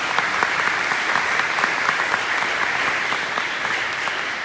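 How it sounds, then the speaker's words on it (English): Audience applause at a school district breakfast event, steady dense clapping from a crowd filling the room without pause, fairly loud and even throughout. "Give yourselves a round of applause."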